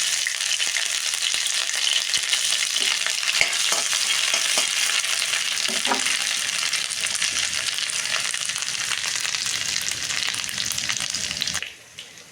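Ginger sizzles and fries in hot oil in a kadai, a steady loud crackling hiss with occasional stirring scrapes, cutting off abruptly near the end.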